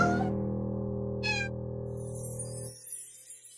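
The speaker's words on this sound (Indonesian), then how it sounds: "Dasar kucing nakal." A cartoon cat gives a short meow over a sustained musical chord, close and clear, followed by quieter twinkly sounds after the music stops.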